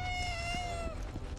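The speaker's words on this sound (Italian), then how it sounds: "Guarda i gattini, madonna quanti sono" Kittens in the video game Final Fantasy VII Rebirth let out one long, clear, high meow that slowly fades, over a low background hum.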